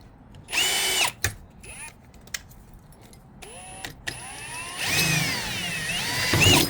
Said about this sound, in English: I'd almost say this drill bit is dull. Not wanting to drill plastic.